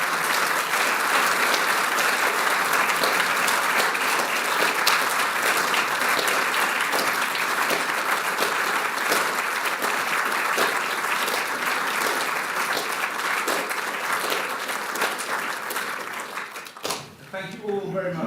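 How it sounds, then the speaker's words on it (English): Sustained applause from a seated audience at an awards ceremony on a cold February night, a dense, even wash of clapping that fades near the end as a voice takes over. "Should we not applaud Judith and her podium?"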